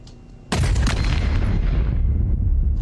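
A heavy video game explosion built in sound design hits suddenly after a quiet start, a deep defined boom with a sharp crack that rolls into a long, loud, rumbling tail.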